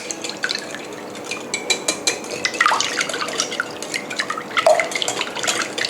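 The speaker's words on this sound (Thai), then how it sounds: "ทีนี้เราก็ใช้ตัว วิปตีให้เข้ากันค่ะ" Rapid, irregular wet clicking and sloshing of a whisk beating milk and eggs in a bowl, steady and close.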